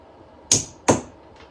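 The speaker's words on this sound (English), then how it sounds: "Hear it click and the coil." Two sharp clicks about 0.4 seconds apart, from the starter solenoid on a 1964 Ford Galaxie being energised, close and distinct against a quiet background, followed by a fainter third tick.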